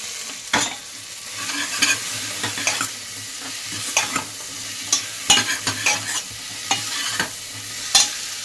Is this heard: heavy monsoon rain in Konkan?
no